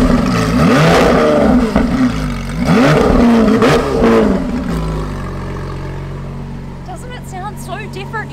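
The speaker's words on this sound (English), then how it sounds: "This sounds like no other Lamborghini in the world." A Lamborghini Sián FKP 37 hybrid in sports mode revs hard several times up close, loud sweeping blips, then settles to a lower steady note while a voice talks briefly near the end.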